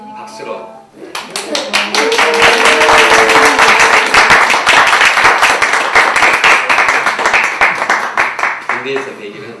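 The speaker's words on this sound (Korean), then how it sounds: "조광석 형제님이 100일 만에 휴가를 왔는데 박수로" A church congregation bursts into applause after a brief voice, many hands clapping loudly and steadily for several seconds before tapering off.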